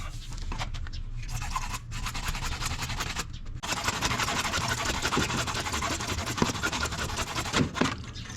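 A water pump pipe is cut with steady, rasping back-and-forth sawing strokes, loud and close, pausing briefly twice before continuing in a dense, continuous scrape.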